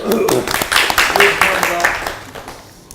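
Audience applause at a small-business federation meeting, a short burst of mixed clapping with talk over it that fades toward the end.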